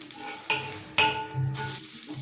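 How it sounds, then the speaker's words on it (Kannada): Instant set dosa batter sizzling and frying on a hot pan while being cooked on both sides, a steady close crackle with a few sharper scraping stir sounds, no talking. "ನಾನು 2 ಕಡೆ ಬೇಯಿಸ್ತಾ ಇದ್ದೀನಿ."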